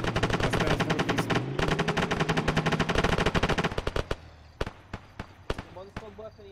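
Rapid bursts of video-game gunfire, dense automatic fire at first, then thinning into scattered single shots over a faint background.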